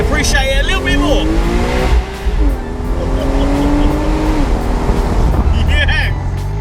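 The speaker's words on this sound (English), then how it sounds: "that exhaust system, I must admit, from the factory sounds phenomenal when it's on full chat" A factory Porsche 997 911 GTS with the roof down pulls hard at full throttle, its naturally aspirated exhaust rising and falling in pitch through gear changes, loud and close with wind noise underneath.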